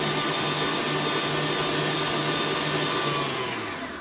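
Electric mixer creaming a crumb topping mixture for a crisp or pie, a steady close whirring drone that holds evenly and starts to wind down at the very end, with no talking.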